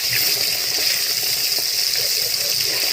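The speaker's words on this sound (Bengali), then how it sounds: "এবার দেখুন এক পিঠটা ভাজা হয়ে গেছে, এবার আমি উল্টে দেবো।" Fish pieces turned over while frying in hot oil for a Bengali potato and eggplant fish curry, producing a constant loud sizzling hiss with faint crackles underneath, close up and without speech.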